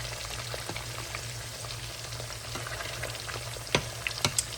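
Thick pork chops frying in olive oil over medium-high heat, a steady close hiss and crackle with scattered pops and a few louder spits near the end, no talking.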